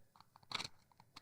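Crispy toasted mochi in red bean soup is bitten and chewed close to the mic, a few quiet, sharp crunches in quick succession with soft chewing between them.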